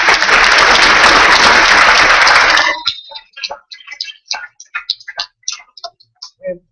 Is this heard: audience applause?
yes